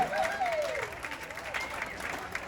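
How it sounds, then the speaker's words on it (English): Audience applause for the executive chef in a cruise ship dining room aboard the Carnival Dream: steady, dense clapping that fills the room, with voices and a rising whistle-like tone over it. "give it a big round of applause to our executive chef"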